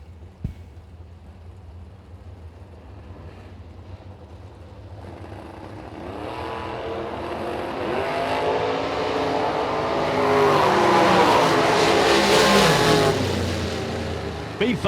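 Camaro Roadster drag racing car launching down the strip, engine roar building and growing louder over several seconds before easing off, with a track announcer talking.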